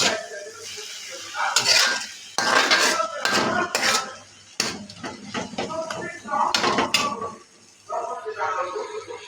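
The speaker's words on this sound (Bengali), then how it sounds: "এখন নারকেলটা দিয়ে দিব। এখন নেড়ে চেড়ে নামিয়ে ফেলবো।" Kolmi shak (water spinach) fried with grated coconut is stirred in a metal pan, with repeated clattering scrapes of a utensil against the pan and a voice talking over parts of it.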